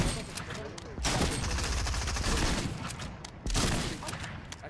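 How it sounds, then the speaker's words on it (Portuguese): Rapid bursts of gunfire from a Fortnite match, dense overlapping shots that run almost the whole time with a brief lull, while players talk over the action. "O cara tá atirando"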